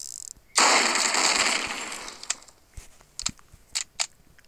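A weapon in the video game Hypper Sandbox fires a dense, rapid burst lasting under two seconds, loud and close, followed by a few scattered sharp clicks and pops, with no talking.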